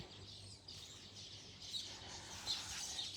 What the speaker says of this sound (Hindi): मैंने लाइफ में ऐसी चिड़िया नहीं देखी, रंग बिरंगी,